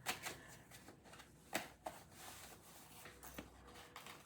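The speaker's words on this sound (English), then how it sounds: "I'd rather you all see me shuffle in real time." Tarot cards being shuffled by hand give soft, papery rustling and riffling bursts in an irregular rhythm, close but quiet, with no talk over them.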